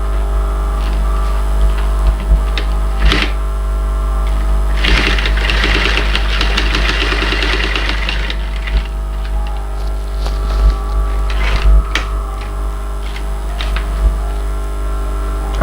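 Sewing machine stitching a leather tote bag, a steady mechanical hum with bursts of rapid stitching and a few sharp clicks and knocks as the work is repositioned, no talk.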